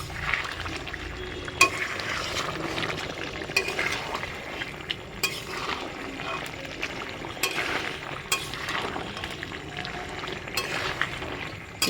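Chicken pieces being fried down in a pan for a spiced curry, with a continuous low sizzle and regular scrapes and clinks as a spatula stirs the meat.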